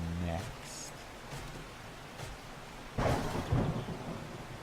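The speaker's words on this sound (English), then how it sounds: "I'm standing in the rain in front of the store" Rain falls steadily in the survival video game 7 Days to Die, a soft hiss with low thunder rumbles building near the end, faint and under occasional sounds.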